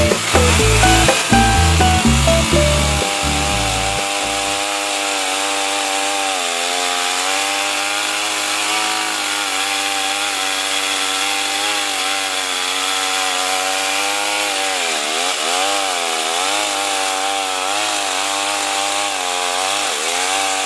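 A STIHL MS391 chainsaw milling dry wood, loud and close, running at a steady high-revving whine throughout with slight pitch dips as the chain bites; a few choppy bursts at the start before the cut settles.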